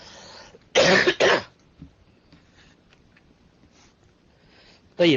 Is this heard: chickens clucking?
no